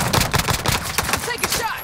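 Rapid bursts of gunfire in a Fortnite quads match, sharp repeated shots rattling close and loud across the whole moment, with game sounds and voices mixed in.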